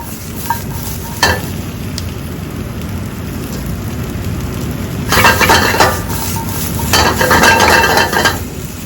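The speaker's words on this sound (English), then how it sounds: "you're just basically going to saute this off until it's brown" Hearty vegetable scraps sautéed in a pan to season it, a steady low sizzle with two louder bursts of stirring and scraping near the end.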